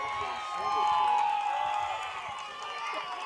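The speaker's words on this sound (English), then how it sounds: "the energetic Vermillion crowd, letting him know their support" A small-town baseball crowd in Vermillion cheers after a base hit, a broad swell of voices and whoops rising and then settling while an announcer talks over it.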